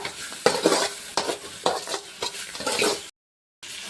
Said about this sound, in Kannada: ಈಗ ಇದನ್ನೆಲ್ಲ ಚೆನ್ನಾಗಿ ಫ್ರೈ ಮಾಡ್ಕೊಳ್ಳೋಣ, ಎಲ್ಲ ಕಡೆ ಮಿಕ್ಸ್ ಆಗಲಿ ಕರೆಕ್ಟಾಗಿ ಉಪ್ಪು ಎಲ್ಲ